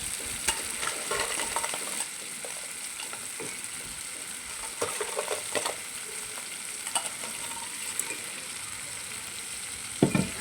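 Crab claws and potatoes fry in a pan with a steady, fairly faint sizzle, broken by scattered scraping stir strokes and a few sharper clinks near the end, with no voices.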